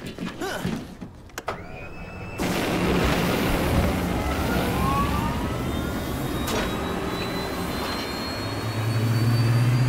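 A jet aircraft taking off in the Resident Evil 6 video game: after a brief mechanical whir, a loud continuous engine roar kicks in and sustains, with a rising whine and a deep rumble building toward the end.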